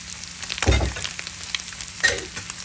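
Chicken frying in a pan while being prepared for kothu parotta with chili powder, a soft steady sizzle with a couple of louder stirring or scraping moments, no talking.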